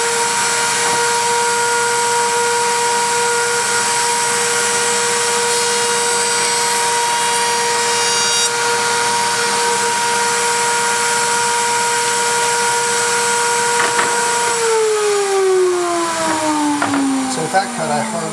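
A router-style cutter bit shaving a curved wooden drawer side, a steady loud whine running continuously, then the motor pitch falling away as it spins down near the end.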